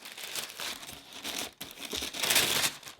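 Wrapping paper crinkles and rustles while being pulled from a replica Union Air Jordan 4 sneaker box, close and fairly quiet, in uneven bursts with brief pauses.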